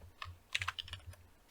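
A password typed quickly on a computer keyboard, a close, clear burst of about a dozen key clicks in an uneven rhythm over a low hum.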